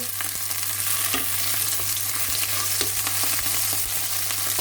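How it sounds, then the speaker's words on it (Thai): Steady sizzling of rice stir-frying in an oiled pan, with occasional scrapes and clinks of a spatula, close and continuous with no talking. "นี้เติมน้ำมันเปิดกระทะ ผัดให้ข้าวหอมนิดนึง"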